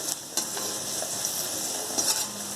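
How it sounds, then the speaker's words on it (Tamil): Onions and curry leaves sauté in a pan while tapioca poriyal is cooked, giving a steady close sizzle with a few light scrapes and clinks of stirring, and no talking. "வெங்காயம், கருவேப்பிலை வதங்கணும்."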